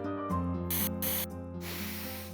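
Perfume from an angel spray bottle comes in two short hissing bursts followed by a longer spray, heard over a sustained musical background.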